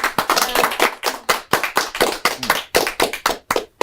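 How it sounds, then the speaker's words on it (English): A small audience at a high school poetry slam claps for a poet, sharp, distinct handclaps in a quick uneven rhythm, close and fairly loud, with brief gaps between bursts. "Please applaud the poet"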